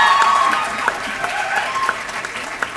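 Applause from an audience at a school annual day awards ceremony: a steady wash of clapping with a few sharper individual claps, moderately loud, with some faint tonal voices or music mixed underneath.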